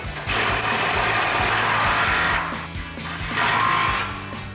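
An impact wrench with an 18mm socket drives the mounting bolts of a Barricade Trail Force rear bumper on a 2021-2025 Ford Bronco, firing in two loud, rattling bursts, a long one followed by a shorter one after a brief lull, with no talking.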